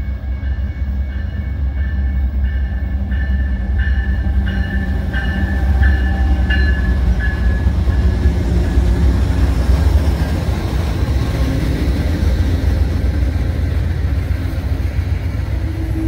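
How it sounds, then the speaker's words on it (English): A loud Amtrak Southwest Chief passenger train rumbles past close by, with a steady roar of wheels on rails and a repeating ringing tone early on that fades. "Here's my train."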